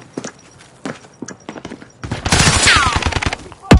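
Gunfire in the video game Operation OMNI: sharp shots in separate bursts at first, then a dense stretch of rapid fire over the rest, loud and close with no talk.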